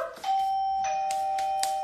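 A kitchen timer bell rings with a sustained electronic tone and a few clatters over it, while cinnamon apple rolls are being prepared.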